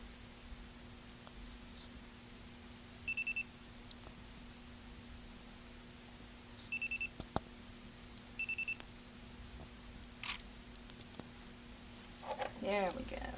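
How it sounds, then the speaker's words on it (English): A digital camera sounds short electronic beeps warning that the picture is too blurry, coming in three quick bursts of rapid pips against a quiet room hum, with a person speaking softly nearby. "When it beeps at me, it's telling me it's too blurry."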